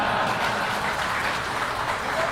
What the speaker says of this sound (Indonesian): Jangan dulu tepuk tangan